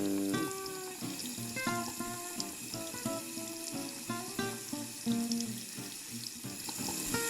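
A bathroom tap runs steadily while hands are rinsed under it, a continuous close splashing stream with small shifts in tone as the hands move through the water.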